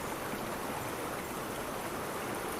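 Steady rush of the Cambian River current, a continuous broadband wash of flowing water, even and moderately quiet with no pauses, alone without voices.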